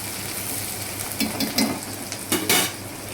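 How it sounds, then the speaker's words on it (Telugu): Onions and curry leaves fry in a pan for fried rice, a steady close sizzle with a few brief stirring scrapes over it. "ఇప్పుడు ఆనియన్ బ్రౌన్ అవుతున్నాయండి. ఇప్పుడు కరివేపాకు వేసుకొని"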